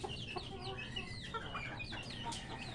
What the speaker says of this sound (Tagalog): meron na ulit tayong alagang bantam